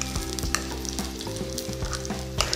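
Spoonfuls of corn fritter batter sizzle and crackle steadily in hot oil, a close, continuous frying hiss with scattered pops and no voices.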